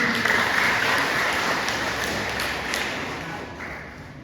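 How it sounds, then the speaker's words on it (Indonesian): An audience applauds Kang Judin at a gathering, with dense, loud clapping from a crowd that fills the whole stretch and fades only slightly toward the end. "tepuk tangan buat Kang Judin."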